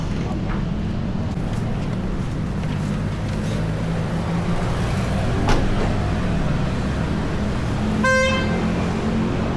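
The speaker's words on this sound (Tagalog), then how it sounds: "pindutin nyo lang po yung lock. Automatic na po siya mag-lock." A 2026 VinFast VF3 electric car gives a single brief horn chirp as it locks, heard once near the end over steady outdoor traffic rumble.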